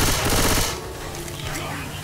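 A loud burst of gunfire loaded with incendiary ammo in the video game Left 4 Dead 2, a heavy broadband blast for under a second that drops to a lower rumble with faint voices.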